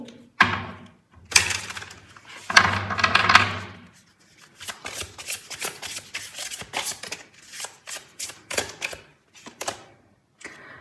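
Tarot cards are shuffled briskly by hand in a couple of loud riffling bursts, followed by a steady run of lighter, rapid card taps and flicks close by with no talking.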